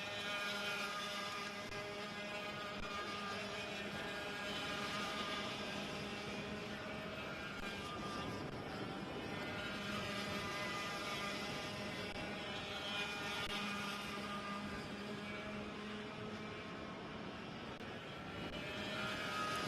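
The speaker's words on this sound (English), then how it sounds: "100cc air-cooled 2-stroke engines," Senior VLR racing karts with single-speed 100cc air-cooled two-stroke engines race in a ROK event, a steady high buzzing drone of several engines that is held throughout at a moderate distance, with no talk.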